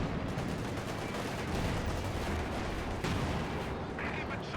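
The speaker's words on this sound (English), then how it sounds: "Good hit by the T-34-85." In the Company of Heroes 2 video game, a T-34-85 tank fires amid dense battle noise: a continuous wash of gunfire and explosions with a sharp, heavy report near the three-second mark.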